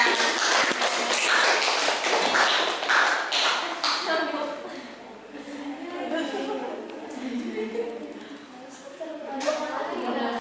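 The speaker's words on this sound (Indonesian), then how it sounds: "kita tepuk tangan semuanya" A classroom group claps together for a team about to present, with a dense burst of applause at the start that thins out as voices talk over it.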